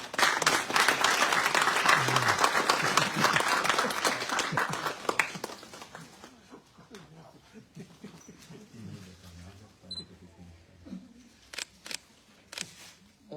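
Warm applause at a citizenship ceremony in Whyalla, dense clapping for about five seconds that thins into a few scattered claps, with a dog whimpering and small shuffling sounds in the quieter tail.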